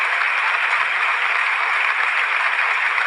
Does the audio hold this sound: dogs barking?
no